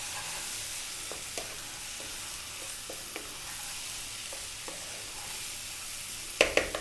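Chili, coriander and cumin sizzle in a pan with a steady hiss and soft crackle. A few light taps run through it, and sharper utensil knocks come near the end.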